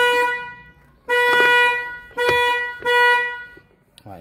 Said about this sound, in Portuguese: Então a buzina voltou a funcionar aqui